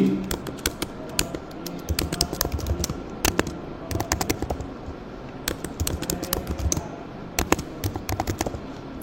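An email address and password are typed on a computer keyboard in a rapid, uneven stream of crisp key clicks. The clicks are close, steady and continuous, with no voice over them.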